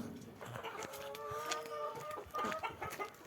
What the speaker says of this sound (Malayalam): ഇത് വേറെ കോഴികളാണ്.